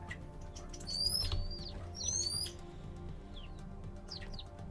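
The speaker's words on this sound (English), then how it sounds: "So check out how pretty these birds are." Birds in the survival video game Vintage Story give a few thin, high whistled chirps and short twitters over a steady low ambient hum, fairly quiet and separated by pauses.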